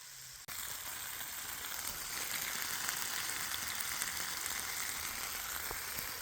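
Honey and mustard sausages fry in a pan at a woodland tent campsite, a faint, even sizzle that starts abruptly after a short pause and carries on without a break.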